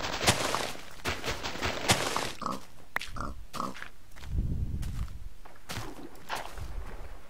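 Pigs in the Minecraft video game, with grunts and squeals coming in short bursts among clicks and footsteps, fairly close and busy, with no talking.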